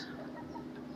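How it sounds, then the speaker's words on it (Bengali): Several hens clucking inside a large cage at a village home in Bangladesh, a steady close murmur of soft clucks over a constant low hum. "এত বড় খাঁচার ভিতর 5টা মুরগি।"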